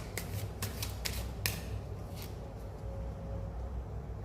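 Tarot cards give several quick, papery slaps and flicks as they are drawn and set down during a relationship spread reading, followed by a quiet room hum with no talking.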